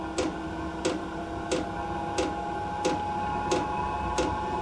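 Fuel pump of a cheap Chinese diesel heater ticks in an even rhythm, a crisp click roughly every two-thirds of a second over a steady mechanical hum, close and clear with no talking.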